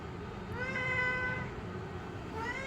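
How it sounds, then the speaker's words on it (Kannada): Pet cat indoors at home, a couple of clear, close meows, one drawn out in the middle and a shorter one at the end, with no talking. "ನಮ್ಮ ಕ್ಯಾಟ್ ಹೆಂಗೆ ಕುಣ್ತಿದೆ ನೋಡೋಣ ಬನ್ನಿ."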